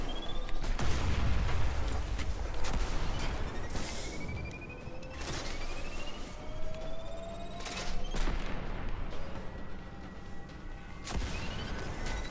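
Cannon fire in the sci-fi shooter game Destiny, a dense barrage of sharp blasts and booms repeating across the whole stretch with whizzing projectile streaks, loud and continuous with no talking.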